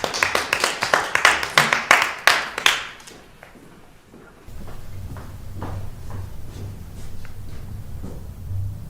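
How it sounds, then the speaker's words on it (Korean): Students in a classroom clap to welcome class president candidates coming forward to give speeches: a short run of sharp, close claps that stops after about three seconds, then quiet room tone with faint scattered taps. "박수로 맞이해주세요."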